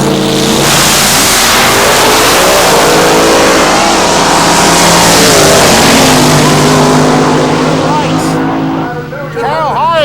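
Fiat Coupe drag racing car engines at full throttle, a loud, sustained roar with shifting engine tones, heard close under excited commentator speech, fading slightly near the end.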